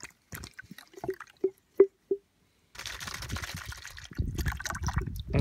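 Contents of a small bottle tipped into a water-filled gold pan at a river sluice: a few soft, separate drips and plops, then a louder, steady splashing rush of liquid entering the water.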